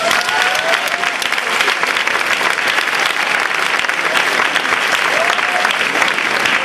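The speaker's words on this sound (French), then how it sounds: "Je demande d'applaudir, s'il vous plaît, Sandra et Daniel." Loud, dense applause from a crowd for a pair of Lindy Hop dancers at a Paris swing festival, continuous rapid clapping with faint cheering throughout.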